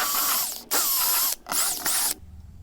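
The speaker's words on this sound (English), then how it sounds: "I don't know what I would do without that little Dremel tool" Dremel rotary tool cutting material on a 12-foot center console bass boat, a high whining grind in four short bursts with pitch dipping under load, close, then stopping abruptly.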